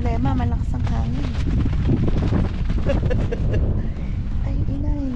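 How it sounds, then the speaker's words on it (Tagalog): Strong wind buffets the microphone in a continuous rumble at a campsite in Alberta, while people talk over it throughout. "Malakas ang hangin."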